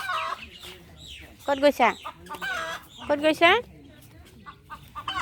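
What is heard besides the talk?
birds being chased away, chicken clucking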